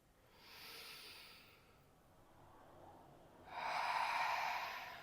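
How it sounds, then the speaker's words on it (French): Slow, deep breaths drawn in and let out through the nose and mouth, a soft airy inhale followed after a pause by a louder, fuller exhale, close and unhurried, with no talking. "Nous allons prendre quelques respirations profondes par le nez, par la bouche, comme cela vient"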